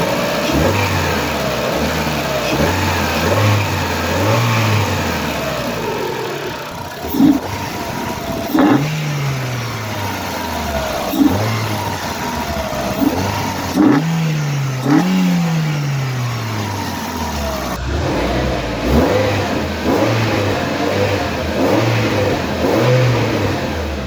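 A Renault Clio RS200 fitted with a pod filter idles, then is revved repeatedly in short blips. Each rev rises and falls sharply, loud and close.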